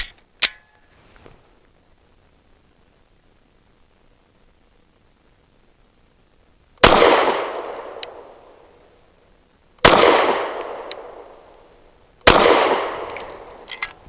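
Three loud, close pistol shots from a BUL Armory Ultralight PRO firing PMC 124 grain ammunition, each a sharp crack with a ringing decay, spaced a few seconds apart after a long quiet stretch with a faint click at the start.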